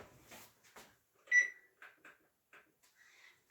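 A kitchen oven is switched on with a few short, quiet electronic beeps and soft clicks, separated by brief silences.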